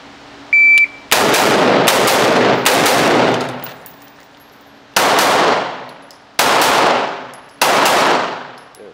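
Loud rifle and pistol gunshots during a shooting drill, several sharp reports in quick pairs and singles with ringing decay, close and dominant.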